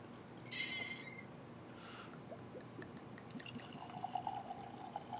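Old Overholt 10 year cask strength bourbon poured into a glass, a quiet short trickle and splash of liquid, close and faint in a quiet room.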